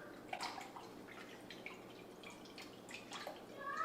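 Salted water and oil brine poured over focaccia dough in a home kitchen, a soft, steady trickling and dripping that runs for a few seconds with faint background noise.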